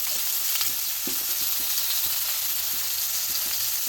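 Sarpunti fish pieces and potatoes coated in salt and turmeric fry in hot oil with a loud, continuous sizzle, broken by a few scattered spatters and stirring taps.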